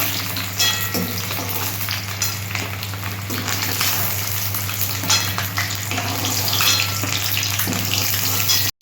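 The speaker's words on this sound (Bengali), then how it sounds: "ওই তেলেতে লাউগুলো একটু আমি হালকা করে ফ্রাই করে দিচ্ছি" Pieces of bottle gourd fry lightly in hot oil left over from frying eggs, a steady close sizzle with occasional stirring scrapes, stopping abruptly at the end.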